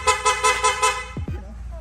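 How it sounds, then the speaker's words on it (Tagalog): A loud horn on a Honda Winner X motorcycle sounds in five short, evenly spaced honks, followed by a couple of brief clicks and a faint background hum. "Ang busina, loud horn."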